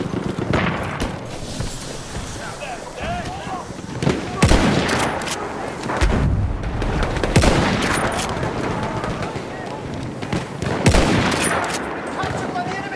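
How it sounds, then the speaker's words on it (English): Machine gun fire in Battlefield 1, loud sustained bursts and fusillades ripping through a chaotic battle, with booming impacts and shouted voices over the din. "There's an enemy machine gun!"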